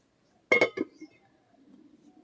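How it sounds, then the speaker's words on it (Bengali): A metal lid set onto a pot of beef and potato curry, a couple of quick close clinks followed by a faint low simmer, with no talking. "ঢাকনা দিয়ে দেবো। ঢাকনা দিয়ে জাল দিয়ে নেবো কিছুক্ষণ।"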